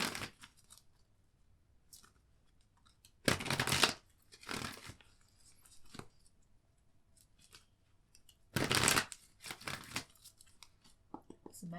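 Tarot cards are shuffled in two loud, crisp bursts of riffling, each lasting about a second, separated by quieter handling and faint rustling in a still room.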